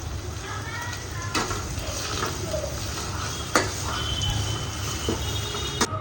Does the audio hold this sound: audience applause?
no